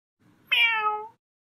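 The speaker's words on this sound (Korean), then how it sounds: "고양이는 야옹, 개는 멍멍" A single cat meow, clear and close, drawn out for about half a second with a slightly falling pitch, over faint background hiss.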